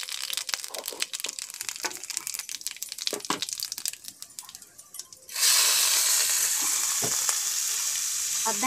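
Onion and garlic frying in hot oil with chili, cumin and mustard seeds for spinach saag, starting with crackling pops and stirring scrapes, then jumping into a loud, steady sizzle.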